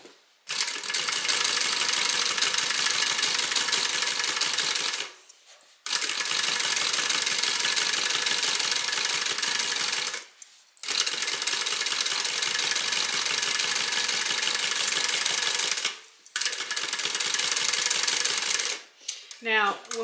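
A sewing machine top-stitches a bag seam in long, loud, steady runs of rapid mechanical stitching, stopping briefly three times between bursts.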